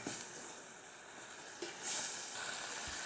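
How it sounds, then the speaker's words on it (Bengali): Pre-fried potatoes slide into hot spiced oil for a hilsa fish curry, giving a soft, steady sizzle with a brighter surge of hissing partway through, heard alone at close range. "এবার আমি আলুটা এখানে ছেড়ে দেব।"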